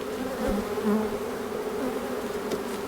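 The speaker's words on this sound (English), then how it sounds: "Looks like this swarm's gonna make a pretty good little hive." Dense, continuous buzzing of a honey bee swarm inside an opened beehive during a swarm transfer outdoors, close and steady, with no voices.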